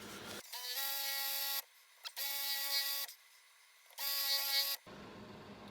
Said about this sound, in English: Hopefully I can drill the top off that screw now.